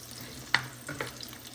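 Chicken momos fry gently in oil on low heat, a quiet soft sizzle with a sharp tick and a few light stirring scrapes.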